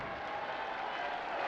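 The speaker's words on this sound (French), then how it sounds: "Le public applaudit." A dense wash of applause and noise from a wrestling match crowd, steady and fairly loud throughout the short stretch, with no distinct voices standing out.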